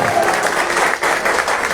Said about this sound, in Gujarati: બધા જોરદાર તાળીઓ વગાડે